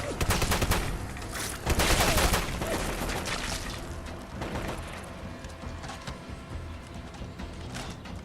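Gunfire in the Fallout London video game comes as dense, loud bursts of rapid shots with a heavy volley near the start, thinning into scattered cracks and clatter amid ongoing combat noise.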